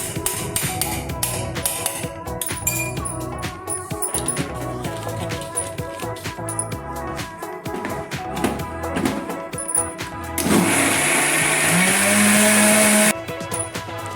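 An electric mixer grinder whirs at close range as it grinds sago flour with curd and water into idli batter, preceded by clattering and handling noises, the motor running steady and loud for a few seconds.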